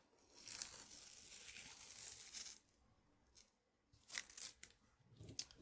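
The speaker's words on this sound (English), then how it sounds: "I'm ready to take my tape off" Painter's tape peels off a mixed media abstract painting in a long crackling rip, followed after a pause by shorter tearing and crinkling pulls, close and fairly quiet.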